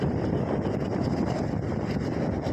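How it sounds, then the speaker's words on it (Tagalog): Strong wind at the seashore roars continuously across the microphone, a dense low rumble with constant buffeting and no voices. "malakas ang hangin sa tabing dagat"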